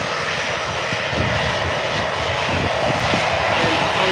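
An EasyJet Airbus A319 departs Birmingham airport close by, its jet engines giving a loud, steady roar with a deep rumble, alone without speech.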